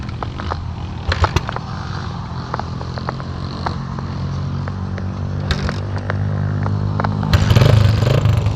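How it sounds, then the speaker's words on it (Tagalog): A motorcycle engine idles and revs steadily close by, with scattered clicks and knocks over the constant motor drone. "Anong motor na yun ah."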